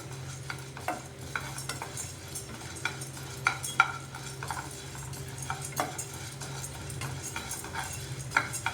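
Lentils roast in a dry pan while being stirred, with soft, steady crackling, a low hum underneath and frequent light scrapes and clinks of a utensil against the metal.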